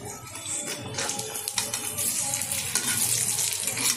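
Bombay duck (lote fish) fritters fry in oil in a wok, giving a steady, close, bubbling sizzle that holds at an even level throughout with no voices.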